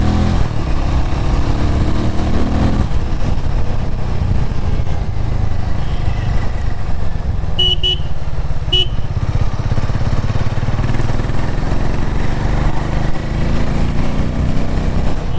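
A Harley-Davidson X440 motorcycle engine runs steadily while being ridden, a continuous close rumbling drone mixed with wind noise for the whole stretch, with no talking.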